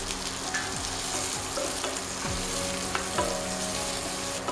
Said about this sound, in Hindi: प्याज को थोड़ा सा भून लेंगे